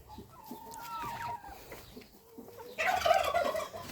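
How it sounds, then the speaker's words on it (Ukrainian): Broody hens clucking and murmuring nearby in a farmyard, with a burst of louder, busier clucking toward the end over faint background noise. "зараз квочки якраз е, гуляють"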